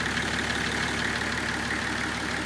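A Nissan Patrol with a TD42 diesel conversion, GTX28/63 turbo and 11 mm injector pump runs with an even, moderate mechanical hum and a slight knock. The sound is steady and close, and no one speaks.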